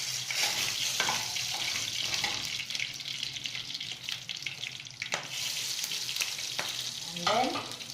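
Oil sizzling loudly with khichdi ingredients, spices such as cinnamon sticks, frying in a pan, a dense close crackle and hiss throughout with occasional stirring clicks and scrapes.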